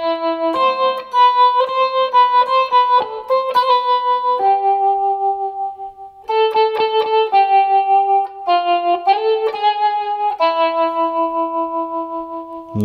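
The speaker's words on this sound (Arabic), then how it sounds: "ده صوت التريمولو لو تلاحظوا،" An electric guitar runs through the tremolo effect of a Boss ME-8 multi-effects unit, playing melodic single notes and short phrases whose sustained tones pulse with a steady volume wobble, loud and clear without talk.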